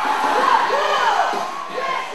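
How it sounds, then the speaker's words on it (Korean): A large concert crowd cheers and roars in a sustained wash of voices, with rising whoops and shouts swelling and easing over a couple of seconds. "관객들이 술렁거린다. 아니, 열광한다."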